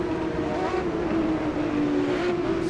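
A BMW M1 Procar at Silverstone in Automobilista 2 holds a steady, loud engine drone at near-constant revs, close and continuous for a couple of seconds.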